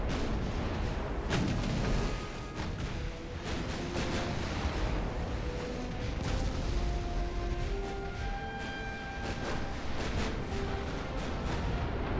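Naval guns firing high-explosive shells in the Ultimate Admiral: Dreadnoughts game with 1890-era hulls, repeated heavy booming salvos spaced irregularly over steady battle rumble, sharp reports standing out throughout.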